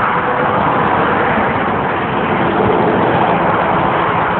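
Loud, constant city road traffic on a Charlotte, North Carolina street, an unbroken roar of passing vehicles with no pauses and no talking.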